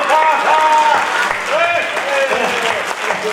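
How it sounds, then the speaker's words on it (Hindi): A dense, steady wave of audience applause fills an auditorium at a Hindi poetry gathering in Ranchi. It stays loud and sustained throughout, with a voice faintly audible over it. "जितने लोग समझ जाना उतने लोग बहुत बढ़िया ताली बजाना"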